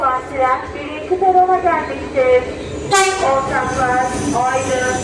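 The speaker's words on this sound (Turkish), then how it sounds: "Denizli yönünde gidecek olan tren birinci perona gelmiştir" A train rumbles and squeals along the tracks while pulling in at Selçuk station in Turkey, with a horn blaring midway and a voice announcing over it that the Denizli-bound train has arrived at platform one.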